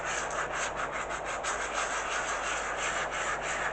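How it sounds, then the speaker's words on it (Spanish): Soft, steady hand sanding of a stucco decoupage surface in slow circles, a continuous gentle scratchy hiss with faint rhythmic pulses, close by and with no talking. "vamos lijando en redondo y muy suave"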